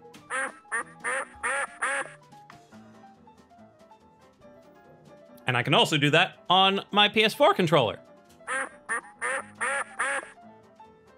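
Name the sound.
duck quack sound effect in a game being made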